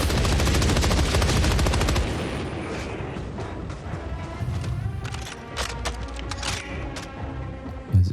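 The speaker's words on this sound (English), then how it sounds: "The machine gun, I like it on the fastest setting" Rapid machine-gun fire on its fastest setting in Helldivers 2 rattles out as a dense, loud burst, then thins into scattered shots and distant impacts with a faint game ambience.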